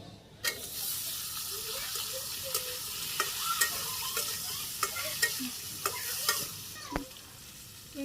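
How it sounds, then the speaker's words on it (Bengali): Vegetables added to browned onions frying in a pan on a rooftop village kitchen in Bangladesh, giving a steady close sizzle with repeated sharp scrapes and clinks of a stirring spoon. "পেঁয়াজও ভাজি করা হয়ে গেছে, লাল লাল হয়ে গেছে। আমি সবজি দিয়ে দিই।"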